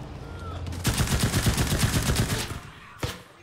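Loud close machine gun fire in the World War II shooter Enlisted: a rapid sustained burst of about a second and a half, then a short gap and one more sharp shot.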